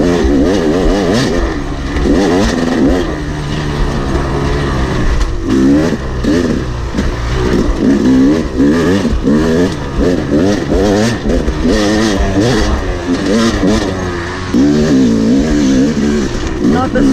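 An enduro motorcycle rides a dusty trail, its engine loud and close as it revs up and falls back over and over, with rough, uneven throttle through the whole stretch.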